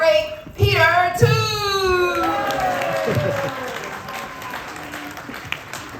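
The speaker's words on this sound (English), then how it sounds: "A round of applause, everyone, for the great, great, great Peter Tu." A crowd at a Lunar New Year celebration hosted by a Flushing Chinese business association claps for an honored guest, steady applause mixed with voices and a few cheers that lasts several seconds.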